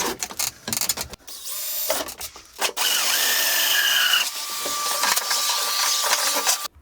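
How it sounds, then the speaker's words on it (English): A power drill cuts a large 114 mm hole in an enclosure panel for 120 mm fans, loud grinding bursts with short pauses and a steady high-pitched whine through the second half. "drilled a large 114mm diameter hole for the 120mm fans"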